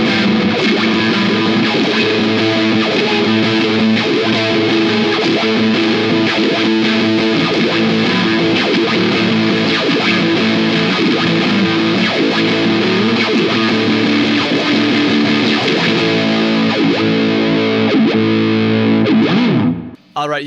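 Electric guitar played through an ENO Music Unparallel phaser pedal with distortion, strummed chords and riffs ringing with a swirling, sweeping tone, loud and continuous for about twenty seconds before stopping abruptly.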